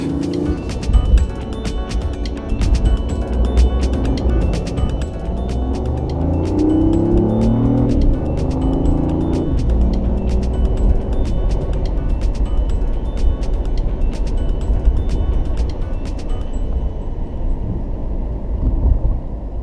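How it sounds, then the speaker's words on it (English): Steady low road rumble and wind noise from a 2017 BMW i8 plug-in hybrid cruising quietly on electric power only, with no engine roar, just tyre and air sounds throughout. "as you can hear now, we're driving on electric only"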